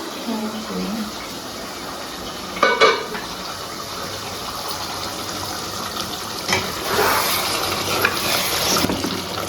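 A spoon stirs chicken curry in a pot, with a few short scraping, sloshing bursts over a constant background hiss and simmer, close and moderately loud.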